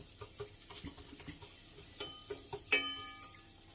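Spices sizzling and crackling in a hot pan, a soft, faint frying hiss dotted with small pops and light stirring clicks, then a brief sharper clatter near the end.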